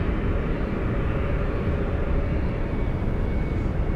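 An Airbus A321 airliner taxiing at night at Dallas/Fort Worth airport, heard as a steady, broad engine rumble and whine at moderate distance, holding constant without a break.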